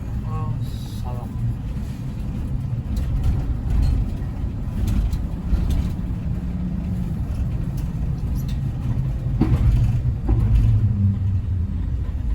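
A Paris city bus drives through narrow streets with a steady low engine rumble and road noise, swelling slightly near the end, while passengers talk over it.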